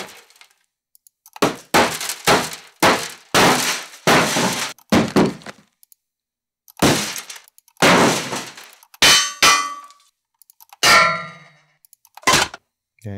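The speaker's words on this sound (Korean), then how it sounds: "총알이 쇠 같은 재질에 이렇게 부딪혀서 나는 소리들을 모아놨다" Bullet impacts on metal from a sound library, a series of loud, sharp metallic clangs and pings with short ringing tails, about a dozen separate hits spaced by brief silences, some with glassy ricochet shimmer.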